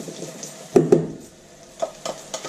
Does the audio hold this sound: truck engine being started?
no